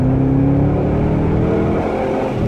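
A Chevrolet Camaro SS with a 6.2 V8 accelerating hard from 40 km/h, a loud, close, steady engine roar holding through the whole stretch with no pauses.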